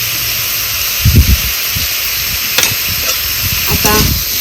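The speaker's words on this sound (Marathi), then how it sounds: "चांगलं ह्याचं परतून घ्यायचं आहे आपल्याला" Bombil fish coated in ground masala sautés in a pan with a steady, close hiss and sizzle, broken by a few brief stirring scrapes and soft knocks.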